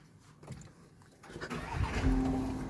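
A car engine starts after the push start button is pressed, a low rumble building up in the second half over a quiet cabin background.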